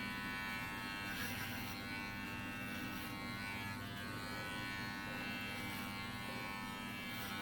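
Electric hair clippers buzz steadily and continuously at close range while cutting the hair on top of the head during a home haircut, with no pauses or talk.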